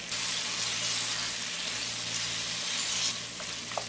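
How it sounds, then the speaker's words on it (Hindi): Mutton liver frying with ginger and salt hisses in a continuous, even sizzle up close, with a few faint utensil clinks toward the end. "1 से 2 मिनट और इसे भूनेंगे"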